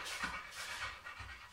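A dog pants steadily and close while it is combed and groomed, its quick, breathy rhythm continuing throughout without pause.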